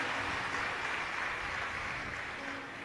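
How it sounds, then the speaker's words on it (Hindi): An audience at a Shiv Mahapuran religious discourse in Kanker, Chhattisgarh gives steady, sustained applause that fades slightly near the end. "उनके लिए एक बार जोरदार ताली बजाकर साथ हुआ।"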